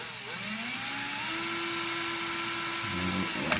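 A steady electric whine from a spinning electric drill motor hooked to a tachometer holds a constant pitch, loud and close, with a slight shift near the end.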